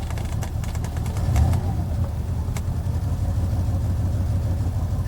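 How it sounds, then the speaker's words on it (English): A Mercedes-Benz W126 500SEL runs at idle with an exhaust leak, a steady low rumbling drone with a slightly rough, uneven pulse, close by and continuous without speech. "It's got an exhaust leak."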